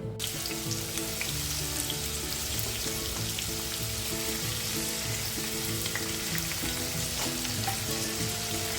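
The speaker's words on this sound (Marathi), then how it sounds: "तर आता आपण तेल तापल्यानंतर टाकलेलं आहे लसूण टाकल्यानंतर आपण टाकलेला बारीक चिरलेला कांदा." Garlic and finely chopped onion fry in hot oil for egg bhurji, giving a steady, close, continuous sizzle and crackle with the occasional stir throughout, and no talking.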